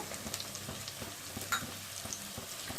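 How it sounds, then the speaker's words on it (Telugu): Green chillies frying in oil in a pan, giving a soft, steady sizzle with faint crackles and light stirring clatter, close but fairly quiet throughout. "తరిగి పెట్టుకున్నటువంటి పచ్చిమిరపకాయలను వేసుకొని వేయించుకోవాలి."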